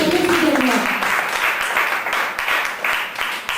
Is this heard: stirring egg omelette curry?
no